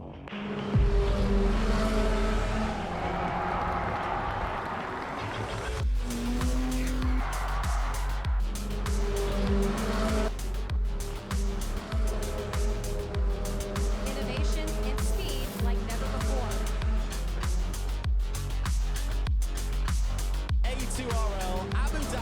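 Autonomous race cars of the 2024 Abu Dhabi A2RL league run on track in played footage, engine tones rising and falling with musical accompaniment and a voice speaking over the mix.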